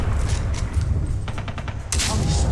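Gunfire in the video game Far Cry 3: loud, rapid bursts of shots crackle in a continuous volley, then a sharper, heavier blast cuts in near the end.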